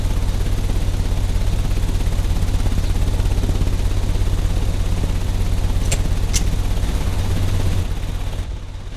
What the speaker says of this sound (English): The engine has started.